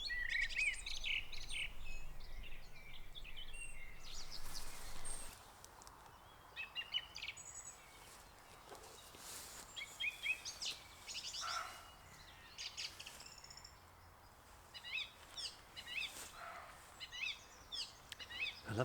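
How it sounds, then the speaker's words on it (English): Birds chirping and calling at sunset near a parked camper van and a blossoming apple tree, with repeated short bright tweets scattered over a quiet background and a faint low hum at the start. "the sun is going down and the birds are still chirping."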